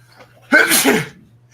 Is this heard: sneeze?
yes